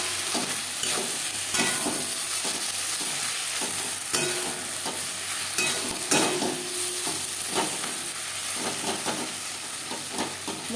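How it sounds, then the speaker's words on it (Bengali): Red chili powder stirred into masala and onions in a hot pan for a Boal fish curry, with a spoon scraping and clattering in irregular strokes over a continuous close sizzle of frying oil. "মশলা ও পেঁয়াজের সাথে লাল লঙ্কার গুঁড়ো বেশ ভালো করে মিক্সড করে দিলাম।"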